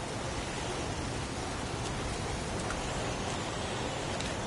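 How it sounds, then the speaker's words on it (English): Heavy pouring rain as a dense, steady hiss of water that stays broad and unbroken, close and constant throughout with no voices. "It's pouring rain."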